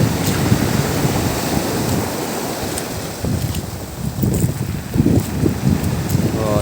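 Rough, churning ocean surf at Anilao, Batangas during the southwest monsoon, with loud continuous wave wash and heavy wind buffeting the microphone, and voices faintly under the roar.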